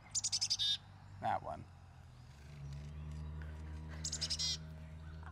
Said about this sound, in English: That's a black-capped chickadee.